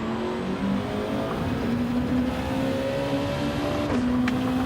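A Nissan race car engine drones steadily in Gran Turismo 7 lobby racing. The tone holds and rises through the gears, with a quick shift near the end, loud and continuous and with no talk.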